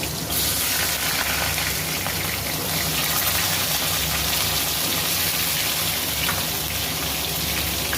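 Ridge gourd, pointed gourd and eggplant fry in hot oil in a home kitchen, giving a continuous dense sizzle and crackle that stays steady and close throughout.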